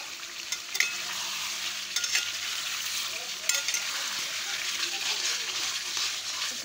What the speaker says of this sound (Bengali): আর রান্না এই যে আলুর দম কষাচ্ছি